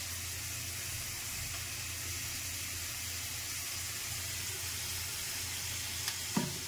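Onions browned to a light reddish colour fry in a pan with ginger-garlic paste, giving a steady, close sizzle that holds throughout, with a brief stir or clatter near the end.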